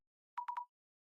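A phone rings in The Urbz video game as three quick electronic beeps at one steady pitch, clean and isolated against silence.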